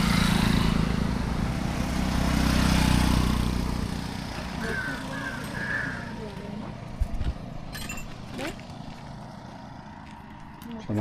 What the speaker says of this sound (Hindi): मोटरसाइकिल पे परिक्रमा करने वाले